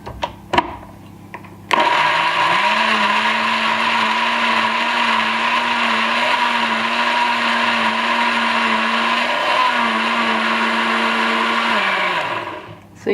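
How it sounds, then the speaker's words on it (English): A countertop blender whirs loudly and steadily for about ten seconds, blending celery and green vegetables into juice, with a clunk as it starts and a winding down at the end. "I'm going to go ahead and just blend it like for a few seconds to get it going."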